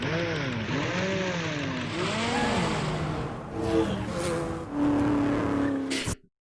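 A loud car engine revving up and down repeatedly, rising and falling in pitch, then holding a steady high rev before cutting off abruptly.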